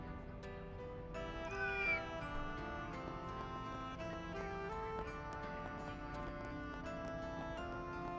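A cat meows in the video game Trails through Daybreak, heard over continuous game music with several layered tones and no talking.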